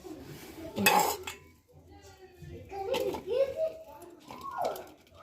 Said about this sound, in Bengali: এইভাবে আমি আলুগুলো কেটে নেব